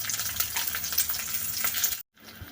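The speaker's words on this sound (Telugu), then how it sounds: "పచ్చిమిర్చి వేసుకుందాం. అలాగే కొంచెం జీలకర్ర కూడా యాడ్ చేద్దాం." Green chillies and cumin frying in hot oil crackle and sizzle steadily with scattered pops, then cut out abruptly near the end before a quieter hiss resumes.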